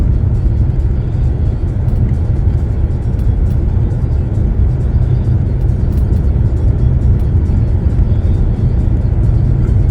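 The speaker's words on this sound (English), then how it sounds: "it's kind of strange driving anywhere" Car interior on the move, a loud, steady low rumble of road and engine noise with an even whir that continues for the whole stretch and has no talking over it.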